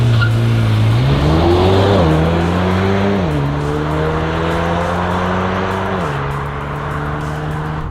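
A Mercedes-AMG GLA 35 SUV pulls away under launch control, its engine note climbing steadily through loud, close gears with brief dips at each upshift, with no voices present.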